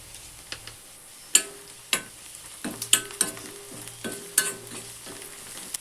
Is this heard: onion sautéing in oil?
yes